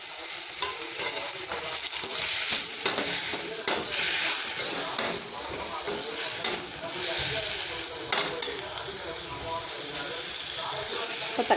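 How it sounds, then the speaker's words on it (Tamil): Tomatoes and onions sautéing in a pan for mushroom salna, with a steady, close sizzle and frequent scraping stir strokes running continuously throughout. "2 தக்காளி கட் பண்ணி வச்சுருக்கேன், அதையும் போட்டு வதக்கிக்கலாம்."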